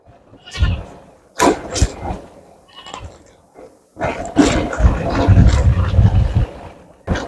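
Goats on a village hillside bleat loudly and close by, several separate calls followed by a longer overlapping bleat, with quiet gaps between.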